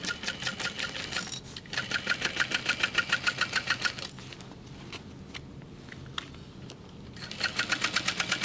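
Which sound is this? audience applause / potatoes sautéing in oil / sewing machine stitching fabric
sewing machine stitching fabric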